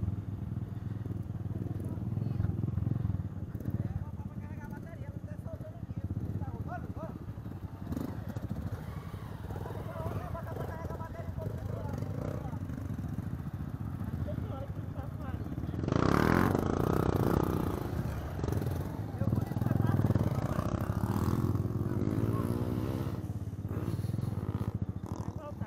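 A motorcycle with a minor engine fault rides along a road, its engine droning and rumbling with some rattling and wind noise, while riders talk intermittently over it.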